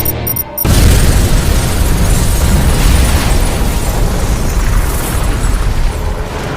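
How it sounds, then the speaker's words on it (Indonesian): A bomb detonates in a film scene with a sudden loud boom that rolls into a sustained, roaring blast and rumble lasting several seconds, with no voices. "Robert terlebih dulu meledakkan bom yang sudah ia aktifkan"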